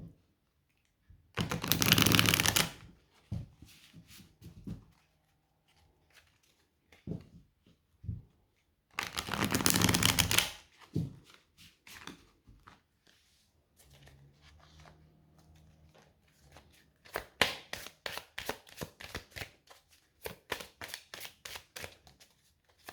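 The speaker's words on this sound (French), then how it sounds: "je me concentre et je mélange les cartes" A deck of tarot cards is shuffled by hand in bursts, with two long riffling rushes and a run of quick rhythmic card flicks near the end, close and fairly quiet with pauses between.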